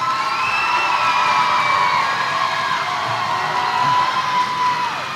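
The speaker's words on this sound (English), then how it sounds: "A round of applause for the graduates of row 5" Graduation crowd for Pasquotank High School graduates cheers loudly, with sustained whoops, shouts and high calls blending into one continuous roar, without clearly separate handclaps.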